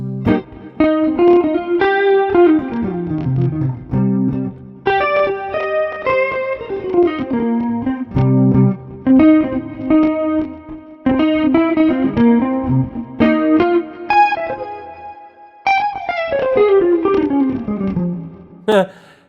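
Electric guitar plays fluid melodic phrases drenched in reverb and delay, runs of notes bunched into bursts with brief gaps and echoes trailing after each line.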